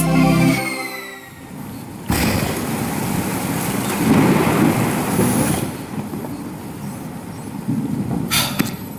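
Animated thunderstorm with steady heavy rain, a loud rumble of thunder rolling in after a brief quieter start and a sharp crack near the end, continuous and close throughout.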